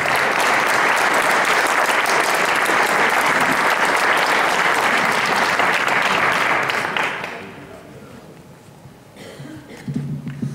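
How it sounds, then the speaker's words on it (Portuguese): An audience at a recreational community band event gives loud, dense applause that runs for about seven seconds and then fades out, leaving quiet room noise with a little movement. "uma salva de palmas"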